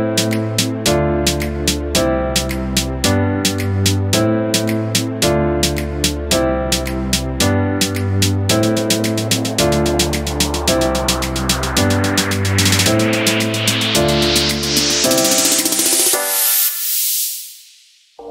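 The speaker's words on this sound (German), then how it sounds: "Die letzten 30 Jahre war der Snare Roll in den Charts zu hören." A chart-style music production with a full mix of drums, bass and chords, building into a snare roll that rises in density toward the end, then stops abruptly into silence, loud with no talking.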